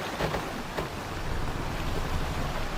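Ocean waves wash around a Viking longship at sea in Assassin's Creed Valhalla, a steady, broad rushing of surf and wind with a few soft splashes, fairly close and with no talk.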